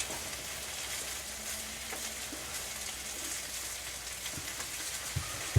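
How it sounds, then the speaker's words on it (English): Chicken sizzles and fries in a pan with a steady crackling hiss and a few faint clinks, quiet in the background. "if you can hear some cooking going on in the background, that's because there is"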